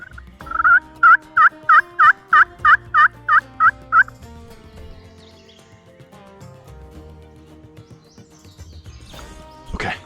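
A run of about ten loud, evenly spaced turkey calls is followed by a wild turkey gobbling in answer out in the woods, with no talking.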